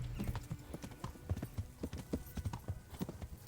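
Horse hooves clip-clop at a steady trot in the Kingdom Come Deliverance game, a brisk run of close, crisp hoofbeats with no talking.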